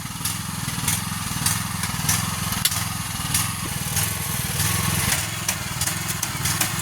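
The small engine of a rice transplanter planting seedlings in a paddy field runs at a steady, loud chugging idle with a rapid, regular mechanical ticking throughout.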